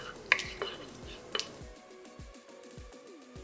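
Cumin and fennel seeds crackle in warm oil for poha upma, a low gentle sizzle with a few sharp spatula clicks early on, while birds chirp repeatedly in the background.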